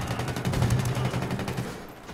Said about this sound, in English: those are like our people shooting assault rifles into the air in celebration.